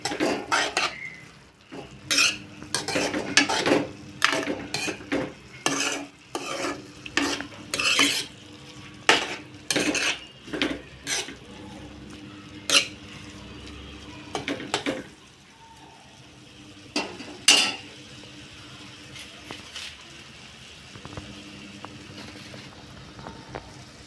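A spoon stirs a masala curry with tomato pieces in a pot, clattering and scraping against the metal in busy bursts with a light sizzle underneath, then slowing to a few scattered scrapes later.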